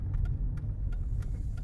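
Mercedes-Benz E320 with a 3.2 litre V6 engine on the move, a smooth, faint low engine hum and road rumble heard from inside the cabin, with light ticks and no talking.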